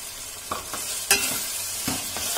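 Curry masala frying in a pan on a gas stove for mutton pulao, a steady close sizzle with a few scraping stirs of a spoon against the pan.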